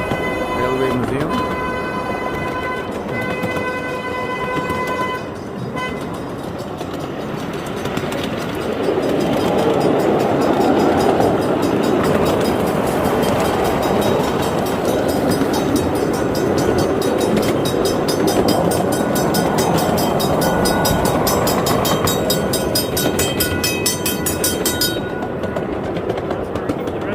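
Museum train running on rails at a railway museum, a steady rumbling roll with clicking wheel noise and brief high tonal whistles or squeals, sustained and fairly close throughout.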